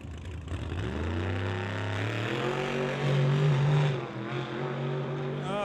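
Shelby Mustang launching at a drag race, a loud engine roaring and rising in pitch as it pulls away down the strip, steady and strong with a surging peak midway.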